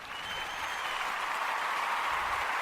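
Audience applause at a live stage set fills the whole stretch as a steady, dense wash of many hands clapping together, loud and continuous with no speech over it.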